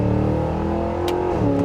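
A 2023 Cadillac Escalade V engine revs hard and loud, climbing in pitch before dipping briefly as it shifts gear, then pulling on.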